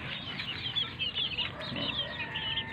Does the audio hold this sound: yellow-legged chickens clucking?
yes